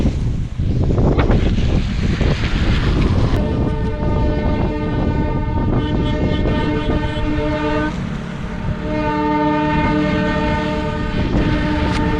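A train rolls past close by on a test run over the new Pamban rail bridge, its loud horn sounding in long sustained blasts over the steady rumble and clatter of wheels.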